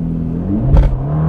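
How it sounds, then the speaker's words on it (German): A Ferrari Roma pulls hard in Sport mode with a loud, close, steady engine roar and a brief surge partway through, and no one speaking. "Wir sind in Sport und ich drücke jetzt einfach mal aufs Gas und mal schauen, was passiert."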